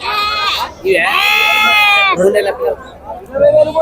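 Sheep and young lambs bleat at a busy livestock market, several loud, close calls in a row, the longest held for about a second, with people talking and market chatter underneath.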